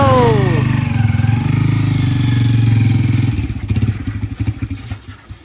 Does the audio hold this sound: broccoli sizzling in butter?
no